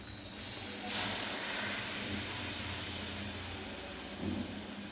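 Chickpea cooking water, boiled with tea leaves, is poured into hot masala for chana masala, giving a steady broadband sizzling hiss that flares briefly near the start and again near the end.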